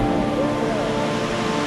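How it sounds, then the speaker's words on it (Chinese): Tumpak Sewu waterfall in the East Java jungle roars from a distance, a steady, dense rushing wash with no breaks and no voices. "现在我们来的这个 waterfall 叫做 Dumbak Siwu"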